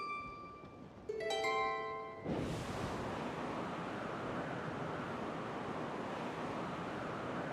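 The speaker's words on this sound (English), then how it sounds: "Windy." In the Genshin Impact video game, a few bright chime-like tones ring out, then a sudden whoosh gives way to a steady, loud rush of wind and surf that carries on alone to the end.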